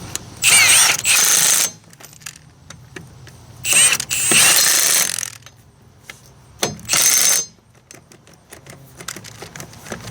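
A socket wrench on a Toyota Corolla wheel, with loud close mechanical bursts of rapid clicking ratchet action coming in three separate runs with quiet gaps between them.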